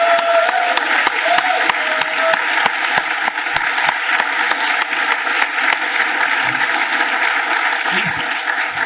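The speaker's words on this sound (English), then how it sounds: "So please give Cooper a round of applause." Sustained audience applause fills a hall at a security conference closing session, dense and even throughout, with voices faintly underneath.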